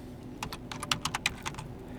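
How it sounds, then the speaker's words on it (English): Keys on a computer keyboard are typed in a Linux terminal, a quick burst of a dozen or so light, close clicks in an uneven rhythm over a quiet room hum. "And now we have to type in the name of our new group."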